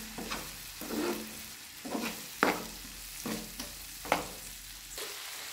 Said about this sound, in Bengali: সয়া সসটা দিয়েছি, দিয়ে আর একটু ভেজে নিয়েছি